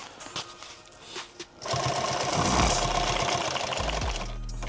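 A sewing machine stitching a subgun micro rig starts after some faint handling, then runs in a steady, fast mechanical whir with a low motor hum, close and loud, with no speech.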